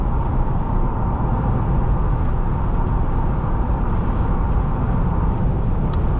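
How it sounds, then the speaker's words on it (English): Wind roar fills the cabin of a 2008-2011 Ford Crown Victoria P71 Police Interceptor at highway speed, a loud, steady, unbroken rush blended with road rumble and no talk. "The wind noise is certainly not impressive, though."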